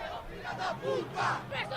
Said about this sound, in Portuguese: Gritos por aqui, é claro, destinados contra os jogadores do Corinthians